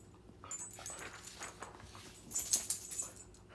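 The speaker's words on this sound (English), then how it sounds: "Sorry, Iggy's barking." A pet dog gives a few faint barks and whimpering yips in the background of a quiet indoor room, soft and scattered over low noise.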